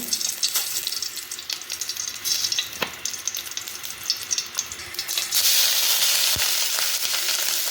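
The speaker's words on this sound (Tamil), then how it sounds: "தேங்காவை நல்லா வறுத்து எடுத்துப்போம்" Grated coconut frying in ghee in a pan, a steady close sizzle with light stirring scrapes, the frying growing louder and denser in the last few seconds.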